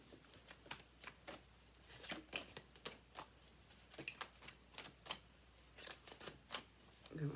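Tarot cards are shuffled close by in quiet, quick riffling bursts and soft slaps that follow an uneven rhythm, with faint talking underneath.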